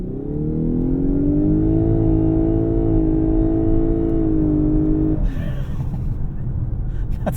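A 2024 Lexus LS 500h AWD hybrid in Sport S Plus launches hard from a full stop, its engine drone rising steadily and loudly for about five seconds before easing off, heard from inside the cabin.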